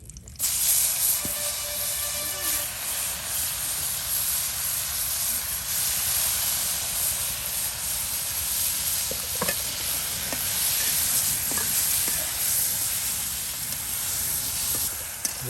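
Taki fish fry in a pan of hot oil with a steady, loud broadband sizzle and hiss that holds throughout, broken by a few sharp crackles and pops.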